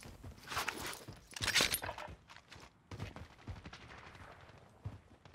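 Gunfire in the video game Warzone: a few sharp, rapid shot bursts early on, then scattered quieter cracks and steps, fairly faint and without talk.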